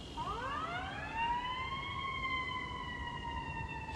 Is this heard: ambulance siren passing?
yes